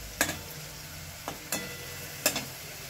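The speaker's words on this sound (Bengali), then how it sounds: "আস্তে আস্তে এইভাবে ভাজবো।" Beetroot fries in oil in a pan over medium heat, a soft sizzle underneath a few sharp stirring clicks that come at irregular intervals.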